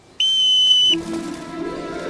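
A sharp whistle blown to start a broom flying lesson sounds once, loud and near, holding a steady shrill tone for under a second before a low murmur of background noise follows.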